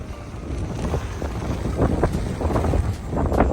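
Strong wind roars and buffets the microphone in a steady, heavy low rumble, gusting louder in bursts, with no voices.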